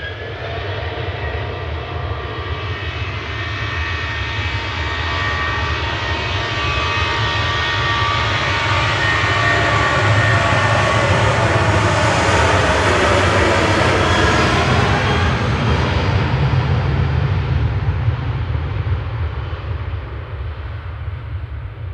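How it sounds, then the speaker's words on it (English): An Aer Lingus UK airliner on final approach to Manchester Airport, its engines a sustained roar that builds and swells overhead before easing, heard alone without talk. "Aer Lingus UK is on final"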